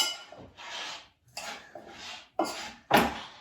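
A spoon mixes a fennel and orange salad topped with salted ricotta, giving several close scraping strokes against the bowl in uneven bursts separated by short pauses.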